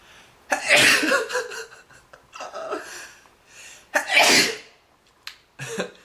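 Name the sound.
sneeze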